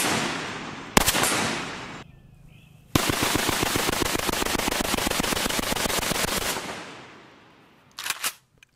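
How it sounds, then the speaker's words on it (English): A Sturmgewehr StG 44 assault rifle fires on full auto at a shooting range, with a cyclic rate around 450 to 480 rounds per minute. A single loud shot comes first, then a sustained rapid burst of close, evenly spaced cracks lasting several seconds, and a brief final burst. "On full auto, it's quite pleasant to shoot as well"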